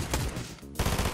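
Rapid automatic gunfire from a fast-firing weapon in the Fortnite Chapter 5 video game, a dense stream of loud shots that drops briefly near the middle before the burst resumes, with no talking.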